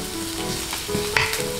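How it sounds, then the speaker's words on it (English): Chopped shallots stir-fry in hot oil with a loud, close, continuous sizzle and a few brief scraping stirs over its short length, with no voices. "First, heat up some oil and then put in chopped shallots"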